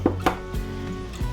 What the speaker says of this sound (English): Our first whole egg is going in.